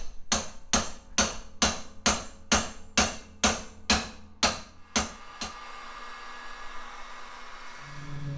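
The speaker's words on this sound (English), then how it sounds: "You will get your pickle fork in here and you'll get your big hammer." A big hammer pounds a pickle fork to pop a pitman arm loose on a Jeep JL Rubicon front axle, about ten sharp metallic strikes in steady rhythm, close and loud, followed by quieter shop ambience.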